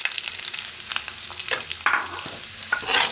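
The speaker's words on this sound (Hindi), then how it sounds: "सूजी को हम हल्की आंच पर भूनेंगे।" Semolina roasting in melted ghee with cardamom powder over a low flame, with soft scraping stirs and a gentle, intermittent sizzle close by; no one talks.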